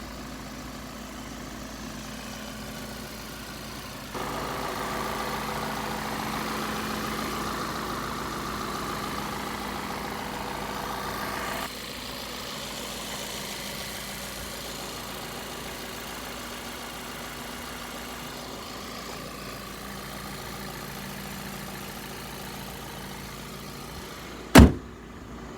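A 2010 Volkswagen CC 2.0T R-Line idles, its steady low hum running smoothly at moderate level with slight shifts in tone, and a single sharp thump like a car door near the end.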